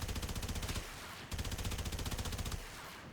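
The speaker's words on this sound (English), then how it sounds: "Assault rifle mode on the left." Fulmin assault rifle firing in the sci-fi shooter Warframe, rapid evenly spaced automatic bursts with a sharp electric crackle, broken by a brief pause between two long strings of shots.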